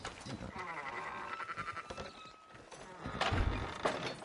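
Sheep bleat in the Red Dead Redemption 2 video game, a few short wavering calls at moderate distance mixed with hoof clops and other livestock noise, while game characters talk over them.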